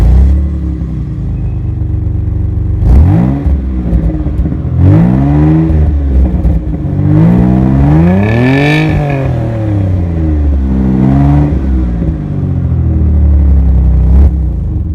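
Outside a parked 1998 Chrysler Sebring Coupe with a Flowmaster exhaust, the engine is blipped four times, each rev swelling loud and close before settling back to a deep, burbling idle between them.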